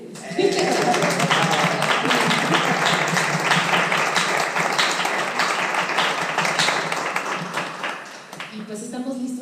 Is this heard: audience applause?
yes